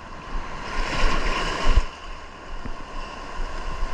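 Big ocean waves surge and crash against a rocky shore, a broad rushing roar that swells to a peak midway then eases into a softer churning wash, with wind buffeting the microphone.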